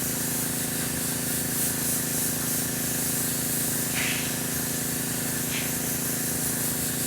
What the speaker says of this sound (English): let me load up the airbrush